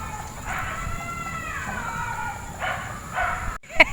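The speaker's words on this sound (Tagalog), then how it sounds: "Ang ingay ng aso." A dog barks and yelps noisily in a few short, loud bursts with whining tones, close by over a low background hum.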